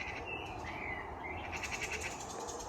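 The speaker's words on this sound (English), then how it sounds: "magpies are obviously having a disagreement about something" Magpies call in garden trees in late spring, a faint chattering of rasping calls at some distance over a steady outdoor background.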